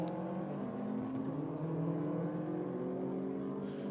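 Drag racing cars, a BMW against a Subaru, roar together at close range with a steady, loud engine drone and rising revs that stay continuous throughout.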